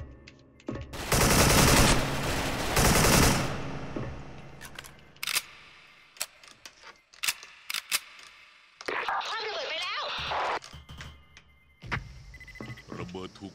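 Automatic rifle fire in the shooter game Special Force, with an AK74 bursts rattling loudly near the start, then scattered single shots and clicks, plus a stretch of warbling electronic effects later on.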